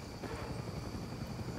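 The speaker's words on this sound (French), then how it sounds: "Oh putain, encore un hélico." Helicopter in the Far Cry 6 video game, a steady, loud, continuous rotor and engine drone that fills the clip without pause.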